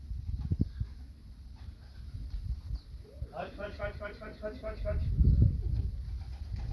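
Racing pigeons coo softly in a rhythmic, warbling series at a loft after a race, with shuffling and low rustling noises nearby and faint background sounds.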